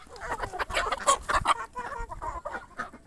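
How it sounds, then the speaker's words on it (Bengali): Chickens cluck repeatedly at close range in a rural yard, with an uneven run of short calls that rise and fall in loudness. "তাই মুরগি ডাক দাও তো।"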